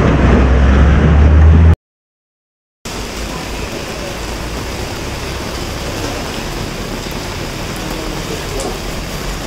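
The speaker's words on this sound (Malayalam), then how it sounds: "മഴ എന്ന് പറഞ്ഞു കഴിഞ്ഞാൽ നല്ല പൊരിഞ്ഞ മഴയാണ്" Heavy rain pours down steadily as a dense, loud hiss that cuts out briefly near the start and then resumes unbroken.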